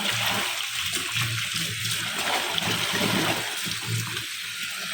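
An old abaya is rinsed by hand in water, with continuous close sloshing and splashing that surges and eases throughout.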